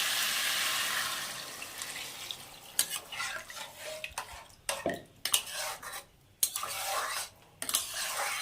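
Water goes into a cooking pan of broccoli and spiced masala, starting with a loud rushing hiss that fades, then clattering stirs and scrapes of a utensil against the pan.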